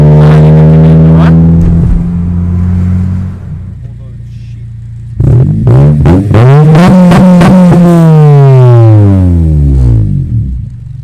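A Honda Integra Type R DC5 with a BYP Racing 70 mm titanium exhaust revs hard close by, the engine climbing and falling in sharp, very loud blips with a short idle between bursts.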